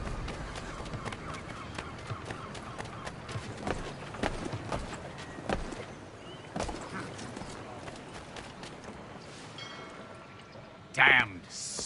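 Horse hooves clip-clop through a colonial city street in Assassin's Creed III, a steady run of sharp hoof knocks under ongoing city bustle and talk, ending with a brief louder clatter.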